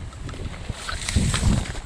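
Wind gusts buffet the microphone outdoors, a low rumbling roar that swells and fades over a couple of seconds.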